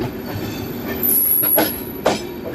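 Garib Rath train running beside and overtaking the Doon Express near Lucknow Junction, heard as a steady rumble of wheels on rails with brief squeals and swells as the other train passes close by.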